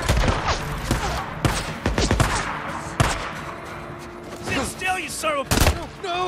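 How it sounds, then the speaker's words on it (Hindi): Gunfire in the zombie video game Days Gone, scattered sharp shots and short bursts cracking out amid game sounds and mechanical clatter, loud and irregular, with a voice talking over parts of it. "ओहो गोलियां पड़नी चालू हो गई।"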